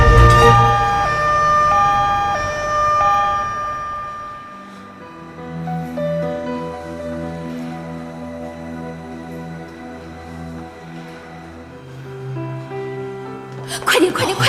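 An ambulance siren wails with a repeated two-tone pattern at the start, then gives way to a dramatic music score, and the siren rises again at the end while people shout in panic.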